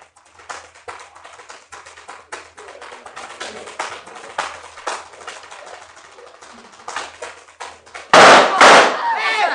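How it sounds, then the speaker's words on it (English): Gunshot sound effect in a radio drama, a single loud sharp crack near the end, preceded by a run of quick tap-dance steps and faint talk. "He's been shot."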